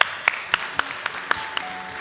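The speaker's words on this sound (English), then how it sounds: "Let's give a big round of applause" Scattered audience applause at an international student career fair in Vilnius, a handful of sharp separate claps at a steady pace, fairly close and sparse, with no voices over them.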